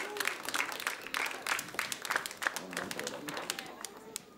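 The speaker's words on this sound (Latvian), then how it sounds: "Tad vēlreiz aplausi visām komandām" A crowd applauds competing teams at the 2015 eXperiments final in Latvia, a fairly quiet patter of clapping with distinct individual claps standing out, mixed with low murmuring voices.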